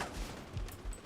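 Rapid gunfire in the shooter game The Division, with a quick fusillade of close, punchy shots that fill the short moment.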